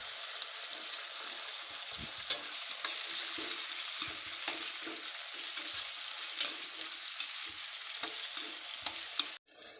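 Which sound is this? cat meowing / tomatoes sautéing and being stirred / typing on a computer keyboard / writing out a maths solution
tomatoes sautéing and being stirred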